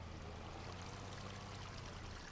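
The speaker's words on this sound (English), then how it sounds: "I don't like the idea of the sound of running water though" Running water in the video game Farming Simulator 25, a faint, steady stream-like rush with a soft trickling texture, continuous and even, with no voices.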